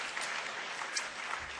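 Audience applause at the CPAC 2012 conference hall, a brief burst of crowd clapping, even and moderately loud.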